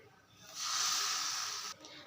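Dosa batter made from ration rice hits a hot pan and gives off a steady, loud sizzling hiss that swells quickly, holds, then cuts off. There is no talking over it.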